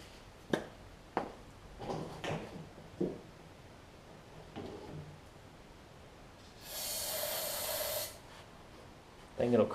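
Carburetor cleaner sprays into the engine of a Yard Machines riding mower in one steady hiss lasting about a second, among scattered handling noises and breaths.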